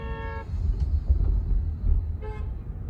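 A car horn sounds twice in traffic: a short, clear toot, then a second brief honk a couple of seconds later, both over a steady low rumble of road noise inside a moving car.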